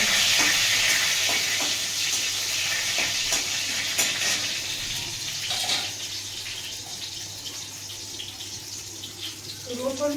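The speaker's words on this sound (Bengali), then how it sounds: "তেলটা গরম হয়ে গেছে, শুকনো লঙ্কা দিয়ে দিলাম, এটা দিয়ে ফোড়ন দেবো।" Dried red chillies hit hot oil with a loud, crackling sizzle that gradually settles into a steadier hiss, with scattered pops and faint background sounds near the end.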